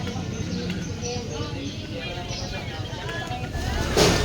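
A large motorboat engine drones steadily on a river trip, a low continuous rumble with wind and water noise throughout, rising slightly louder near the end; a voice talks over it.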